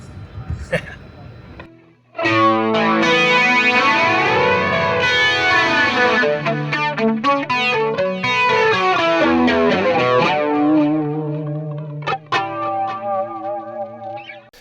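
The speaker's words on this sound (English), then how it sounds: "Another way I like to use this pedal is as a chorus pedal." Electric guitar through a $50 analog pedal set as a chorus, pronounced swirling wavering tones over strummed chords and bends, loud and continuous with slight distortion.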